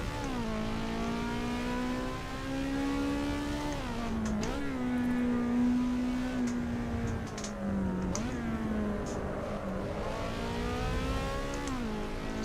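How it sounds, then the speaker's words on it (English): Racing car engine in the video game Assetto Corsa EVO, a loud, continuous high-revving whine that climbs and drops through gear changes, steady and close throughout with no talking. "Sounds like an F1 engine, doesn't it?"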